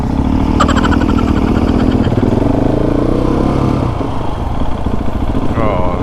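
A Royal Enfield Classic motorcycle engine thumps steadily nearby in Penang with a low, rhythmic idle and slight revving, someone talking over it.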